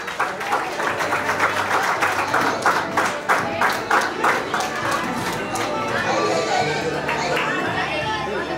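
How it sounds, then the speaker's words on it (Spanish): Sustained applause and clapping at a graduation ceremony as a student is called up, mixed with crowd chatter, steady for most of the clip before easing toward the end. "¡Aplausos para él!"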